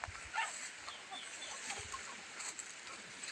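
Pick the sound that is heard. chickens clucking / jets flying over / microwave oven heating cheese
chickens clucking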